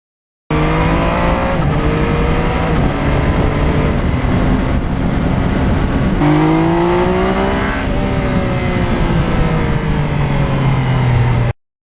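A 2020 Yamaha MT-09 motorcycle with quieted mufflers on a winter ride, a loud steady engine drone with rising and falling revs and gear changes under heavy wind rush.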